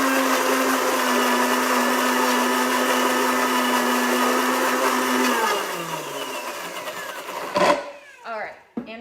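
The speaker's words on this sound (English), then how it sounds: "and just put it on your blender." A blender roars loudly at close range for several seconds, then its motor winds down and stops, followed by a few brief clattering sounds.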